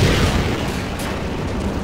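A rocket blast in Half-Life 2 fills the moment with a loud, sustained rumbling boom, broadband and close, with no break across the short burst.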